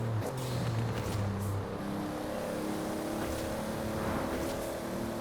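The 900-horsepower engine of Paul Walker's Fast and Furious Toyota Supra in Forza Horizon 4 drones loudly and steadily, with its pitch shifting slightly as it holds a continuous rev.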